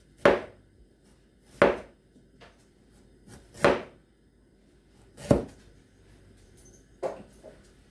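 A knife cuts slices of ginger on a board, five or six sharp separate chops spaced a second or two apart, close and clear in a quiet kitchen.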